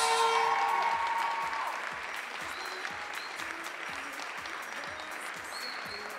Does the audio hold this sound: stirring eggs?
no